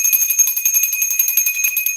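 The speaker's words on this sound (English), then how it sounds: "Look, we got a new bell." A new bell rings with a bright, sustained metallic tone, struck repeatedly in a fast, even shimmer for about two seconds, loud and close with no talk over it.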